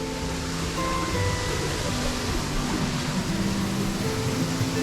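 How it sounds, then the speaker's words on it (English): A big waterfall in a Costa Rica cloud forest reserve, a dense continuous roar of rushing water, loud and steady throughout with no voices. "That waterfall is right here."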